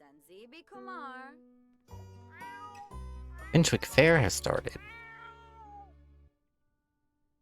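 A hungry pet cat meows several times in rising, drawn-out cries as it begs for food, its calls overlapping with a person talking close by.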